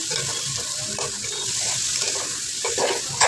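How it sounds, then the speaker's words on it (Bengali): Water pours steadily into a pan of pilaf rice that is being fried in a home kitchen, making a continuous splashing hiss with a small bubble near the end. "পোলাও চালটা একটু ভাজার পরে তারপর পরিমাণ করে পানি দিয়ে দিলাম"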